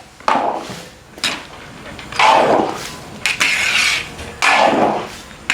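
Lentils and soy meat being stirred in a cooking pot, with a few distinct scraping, clattering strokes of a spoon against the pot spaced a second or two apart, close and fairly loud.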